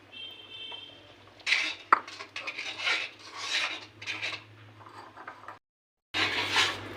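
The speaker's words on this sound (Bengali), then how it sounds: "এটা কিন্তু বারবার করে নাড়িয়ে রাখতে হবে, কারণ এই দুধ পড়েছে, নিচে যেন একদমই না ধরে যায়।" A spoon scrapes and stirs semai custard with milk in a pot, giving uneven rasping strokes up close, stopping briefly near the end and then starting again.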